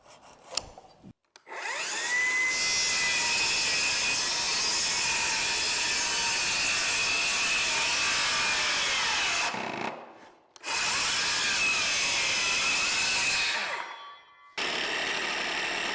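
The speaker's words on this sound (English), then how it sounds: "I'm gonna cut a 45-degree notch off of the bottom, coming down 1 inch" A 45-degree notch cut into a 4x6 wooden beam with a power saw, two long sustained whining cuts separated by a short pause, loud and close, with no talking.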